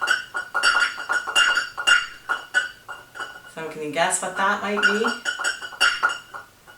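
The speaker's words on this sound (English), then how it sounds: "Oh, I think it's in a bowl. It's a golf ball." A golf ball rolls around inside a metal bowl with a quick run of rattling, ringing clinks, close by and rising in the middle. Talk from a voice runs over most of it.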